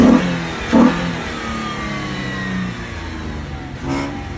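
A GM V6 swapped into a Mazda Miata, fitted with the stock Mazda muffler and a cold air intake, revs steadily and fairly quietly, holding a smooth engine drone with a couple of brief louder bursts.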